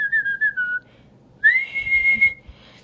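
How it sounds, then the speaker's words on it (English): A person whistles two short, clear melodic phrases close to the microphone, with a pause between them and faint background noise. "I will whistle now."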